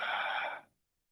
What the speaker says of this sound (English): and exhale through your mouth.